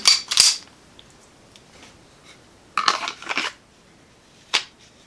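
An unloaded STI 2011 pistol is pushed into a tight-fitting KTactical OWB holster, giving sharp plastic clicks and scraping snaps in two clusters with a single click at the end, close and distinct against near silence.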